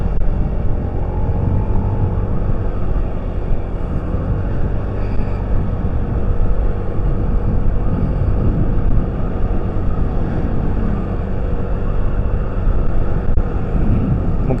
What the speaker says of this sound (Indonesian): Dan motor gua udah mulai sedikit tersendat-sendat.